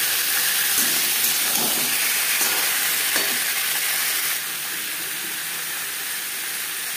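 Boiled potatoes sizzle in hot mustard oil, a loud, steady, close frying hiss that eases to a quieter sizzle partway through.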